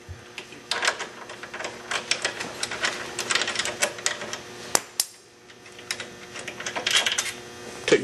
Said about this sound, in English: we're going to loosen up the bolts a little bit.